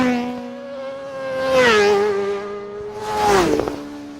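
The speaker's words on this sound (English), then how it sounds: "Sound Ideas brings you the sounds of racing motorcycles straight from the International Isle of Man" Racing motorcycles at the Isle of Man TT race, engines whining at high pitch and sweeping past in two fast passes, each swelling loud as it nears and dropping in pitch as it goes by.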